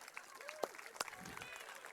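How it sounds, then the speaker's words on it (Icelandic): Audience at a 17 June outdoor celebration in Stykkishólmur claps in a faint, scattered burst of applause, mixed with crowd murmur and a few voices. "gefa honum gott klapp."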